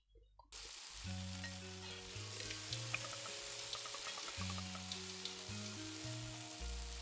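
Pasta sizzling in a frying pan in the video game Eastward, a steady crackling fry with short game music tones layered over it throughout.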